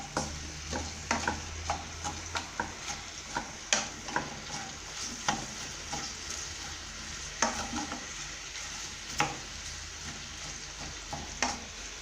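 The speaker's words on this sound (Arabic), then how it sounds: "يلا دوك راح نقلب اللحمات." Pieces of meat sizzle steadily in a hot frying pan while being turned over, with a run of sharp utensil clicks and scrapes over the constant close frying hiss and no talking.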